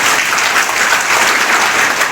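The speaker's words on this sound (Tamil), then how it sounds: "கைத்தட்டுங்க." Dense, loud applause from an audience at a district education loan camp, a steady, continuous roar of clapping with no break.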